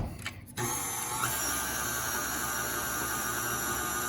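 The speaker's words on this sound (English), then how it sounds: "Just mix this thing together, put it right in the mixer." An electric mixer whirs steadily through cornbread batter made with cream corn, a constant close motor hum that kicks in after a brief moment of handling noise and runs on without pause.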